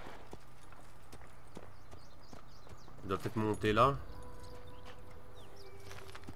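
Horse hooves clip-clop at a steady walking pace while riding in the video game Assassin's Creed, low in the mix beneath someone talking in French.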